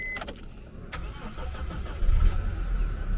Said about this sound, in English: every time I heard a Daihatsu start